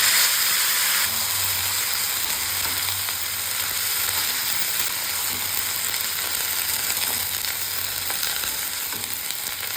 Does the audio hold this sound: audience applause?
no